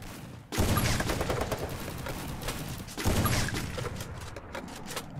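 Dense gunfire from a Free Fire-style mobile shooter game, two sustained bursts of rapid shots, loud and close, with no talking.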